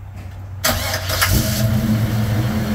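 A 1941 Chevrolet pickup truck engine cranks briefly and catches, then settles into a loud, steady idle close by, with no talk.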